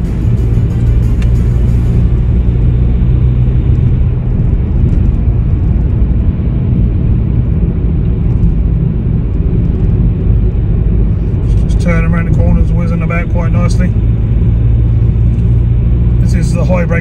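A car is driven on the road, giving a steady, loud, low engine and road rumble from inside the cabin throughout, with a voice speaking over it.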